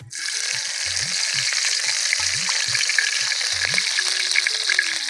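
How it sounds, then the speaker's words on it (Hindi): Chopped green chillies hit hot oil in a pan for Kadaknath chicken, giving a steady loud sizzle with soft, regular scraping thumps as they are stirred, and no talking. "ये हरी मिर्च काट के रखे थे उसको डालते हैं दोस्तों।"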